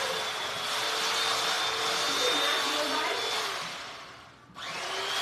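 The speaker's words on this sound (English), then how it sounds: "so he's cutting it up with the electric knife." An electric knife buzzes steadily as it cuts through sausage freshly cooked on a grill, a close, even motor whine that briefly dips and cuts out before starting up again.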